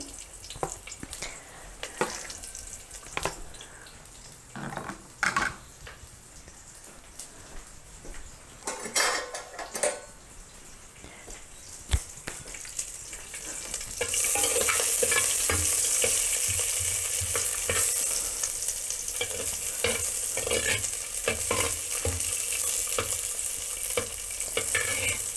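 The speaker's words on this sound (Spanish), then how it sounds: "ahora vamos a freírlo con un trozo de cebolla en una" Beans already cooked with garlic and onion are fried with a chunk of onion in a pot, with scraping and stirring clatter from a utensil. A loud steady sizzle rises about halfway through and holds to the end.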